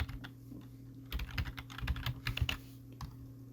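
Quick bursts of keystrokes on a computer keyboard, close and fairly quiet, with short pauses between runs of typing.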